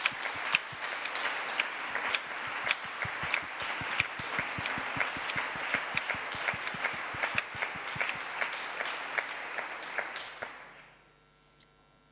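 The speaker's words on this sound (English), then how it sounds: "Let's give a round of applause, please." A conference room full of people at the ISMIR 2018 meeting in Delft claps for about ten seconds, steady and lively, before the applause fades out.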